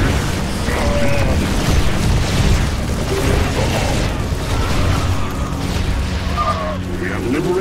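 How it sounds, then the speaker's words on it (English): Heavy cannon fire from a StarCraft 2: Legacy of the Void campaign battle, with a dense, continuous rumble of booms and bursts layered over game music and scattered effects throughout. "Our cannon shall sing."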